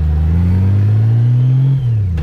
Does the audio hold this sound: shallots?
no